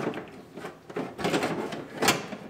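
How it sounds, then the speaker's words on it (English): A car door lock is slid out of a Buick Enclave door panel, giving a close series of plastic-and-metal scrapes, clicks and short knocks in uneven bursts. "We'll slide the door lock out of the door"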